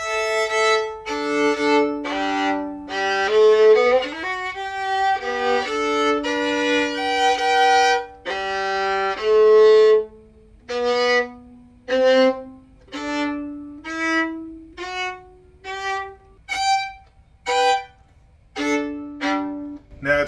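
A poorly sounding student violin with a Cremona label is bowed solo, up close, in a run of sustained notes that breaks into short separated strokes with gaps between them.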